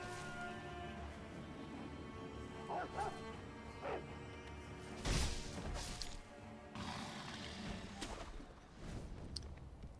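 Dog enemies in the video game Sekiro bark and snarl amid combat, with sharp crashes and hits mixed in over a busy game soundscape.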